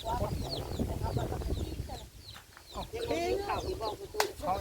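Chickens cluck repeatedly at close range, a busy overlapping chorus of short calls with a voice talking faintly underneath.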